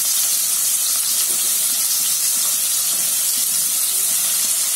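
Fresh vegetables tipped into a hot pan for Chinese-style veg noodles sizzle steadily, a loud, even hiss of frying with no break, close by and without any talk.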